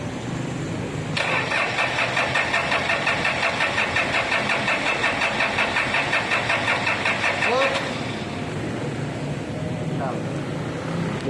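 A Toyota Innova diesel engine is started after EGR cleaning: a loud, rhythmic cranking runs for about six seconds, then settles into a steady idle.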